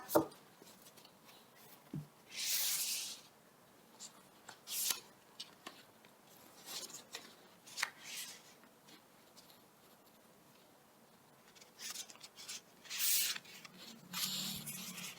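Tarot cards are shuffled and handled close up during a reading, with bursts of soft riffling and sliding interspersed with light taps and quiet pauses, with no voices.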